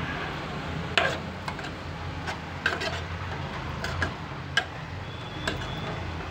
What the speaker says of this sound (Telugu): చూడండి వేగుతుంది, వేగాలి కదా.